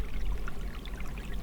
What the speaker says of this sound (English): spring water coming out of the ground